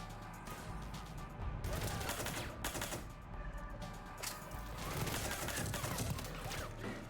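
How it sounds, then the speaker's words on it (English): Suppressed pistol fired in Mass Effect 3, a string of muffled, clattering shots in quick uneven bursts mixed with game combat noise, fairly close and continuous. "What the shit is this pistol? Oh, it's like a suppressed one."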